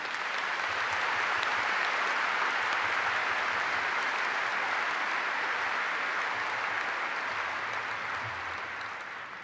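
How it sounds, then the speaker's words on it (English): A large crowd applauds the school board at a 2015 Wayzata High School graduation ceremony, dense sustained clapping that holds steady and loud for the whole stretch before easing slightly at the end. "Let's give them a round of applause."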